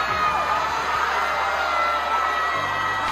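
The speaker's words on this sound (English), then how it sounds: "Stanford students just let out a harrowing scream" Stanford students scream together in the Primal Scream tradition before exams, a sustained, distant crowd roar of shouting and whooping that carries on without a break for several seconds.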